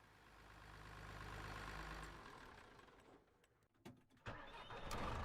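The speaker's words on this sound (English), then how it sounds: "I have an engine sound preview mod," A vehicle engine in Farming Simulator 2025 turns over and runs with a low rumble, fades and sputters, then catches again with a louder mechanical roar toward the end; no talking.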